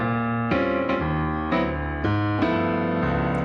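A jazz blues piano turnaround on a 1-6-2-5 progression: rich sustained chords struck about every half second, each ringing into the next, played alone and up close.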